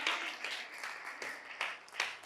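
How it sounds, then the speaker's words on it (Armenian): A church congregation claps for Jesus in a run of uneven bursts of applause, fairly close and lively, rising and falling over a couple of seconds. "Եկեք ծափարենք մեր Հիսուսի համար"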